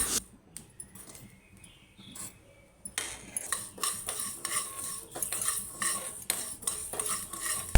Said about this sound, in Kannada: ಈಗ ಎರಡು ಸ್ಪೂನ್ ಮೆಂತ್ಯವನ್ನು ತೆಗೆದುಕೊಂಡು ಚೆನ್ನಾಗಿ ಹುರಿದುಕೋಬೇಕು